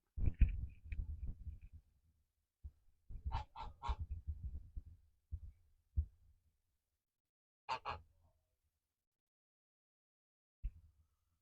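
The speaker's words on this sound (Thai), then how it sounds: "ก็เจอห่านนะครับสายพันธุ์เยอรมัน" German geese honk in short, loud bursts, several calls clustered together, then scattered single honks separated by quiet pauses.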